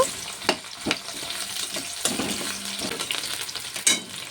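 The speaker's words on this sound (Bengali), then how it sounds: "পেঁয়াজটিকে নরম করে একটু ভেজে নেব" Chopped onion fried in hot mustard oil with whole cumin: steady sizzling under sharp scrapes and clinks of a spatula stirring in the pan, with no talking.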